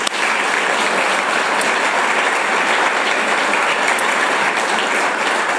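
Applause from an audience at an Assembly Hall renovation groundbreaking ceremony, honoring donor Ken Nunn for a bicentennial campaign gift; dense, steady clapping fills the room at a constant level throughout, with no voices over it.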